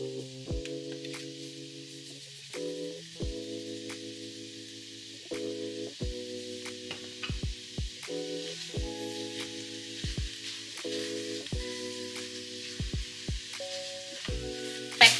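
Meat sizzles in a frying pan as a steady, soft hiss that runs throughout, sitting beneath louder background music with melodic tones.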